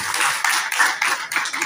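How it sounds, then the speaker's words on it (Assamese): An audience claps together at a felicitation ceremony in Nalbari, a dense, steady patter of many hands lasting throughout, close and fairly loud, with no talking over it. "সকলোৱে এবাৰ হাত তালি দিব।"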